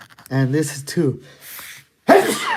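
A single loud, sharp sneeze bursts out near the end, right after a person speaks briefly during a tabletop puzzle game session.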